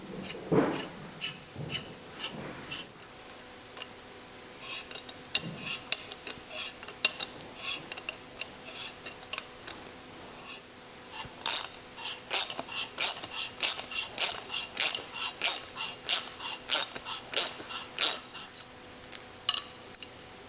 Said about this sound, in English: I'm just going to take my tap, run down, clean out everything, clean out these threads